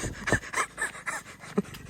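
Quick, heavy panting breaths in a steady rhythm, close and moderately loud, like someone out of breath.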